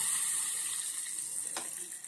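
Hot oil sizzles as mustard seeds, cumin, asafoetida and curry leaves are tempered for Jain raw banana vada. The hiss is steady, close and continuous, with one sharp crackle burst partway through.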